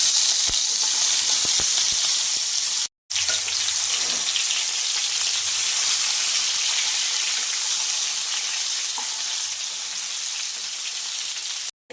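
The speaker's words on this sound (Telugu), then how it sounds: "ముందు వంకాయలు ఫ్రై చేసుకుందాం." Stuffed brinjals frying in hot oil in a pan, a loud, continuous close sizzle and hiss that runs throughout, broken only by two brief gaps.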